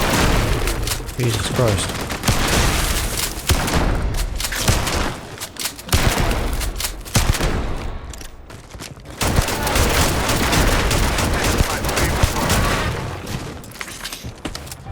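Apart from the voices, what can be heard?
weapon firing in Starfield video game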